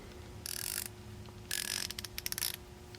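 Two bursts of rapid ratchet clicking from a Nepros blue ion-plated ratchet wrench fitted with a 7/16 socket, the second burst longer and ending in separate clicks, close and clear over a quiet room hum.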